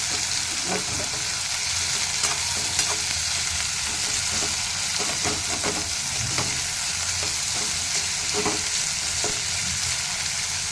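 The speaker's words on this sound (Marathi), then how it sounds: "आता आपण कापून घेतलेला कांदा घालू ह्याच्यामध्ये छान परतून घ्यायचा कांदा" Chopped onion sautéing with cumin seeds in a pan for a tondli vegetable dish, a constant close sizzle with frequent light stirring clicks and scrapes throughout, no one speaking.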